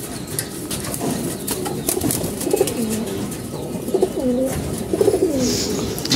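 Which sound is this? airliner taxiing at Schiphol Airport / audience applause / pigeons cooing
pigeons cooing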